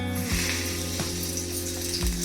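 Bangada mackerel coated in rava and rice flour sizzles steadily in hot oil, a dense continuous frying hiss with a few brief splashes or clinks along the way.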